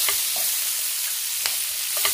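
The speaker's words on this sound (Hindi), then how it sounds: "मैंने कैप्सिकम दी है, इसको भी हम साथ में सौते कर लेंगे" Capsicum sautéing in a pan with a steady, close sizzle and a few soft stirring scrapes, no voices.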